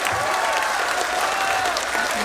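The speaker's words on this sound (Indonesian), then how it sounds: "Tepuk tangan untuk Banser Taiwan." Loud, dense applause from a crowd greeting Banser Taiwan members at a religious gathering in Taiwan, continuous throughout with some crowd noise and a faint voice under it.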